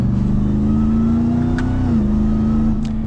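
Supercharged 2022 RAM TRX V8 engine revving steadily and loudly up close, a sustained deep drone with a brief pitch dip partway through, plus supercharger whine in the interior.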